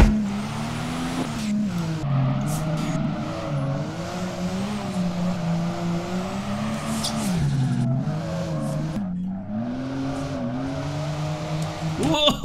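A racing car engine in the DRIFT21 drift simulator video game drones and revs continuously while sliding through a corner, its pitch rising and falling with throttle, with tire squeal layered over a steady, loud roar throughout.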